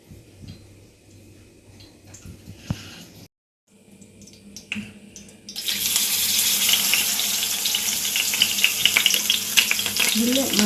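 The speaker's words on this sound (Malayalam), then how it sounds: "ഓയിലാട്ടോ പൊരിക്കുന്നത്." Eggs fry in hot oil, sizzling and crackling loudly, a dense hiss that swells after a quieter, clattering start with a brief gap.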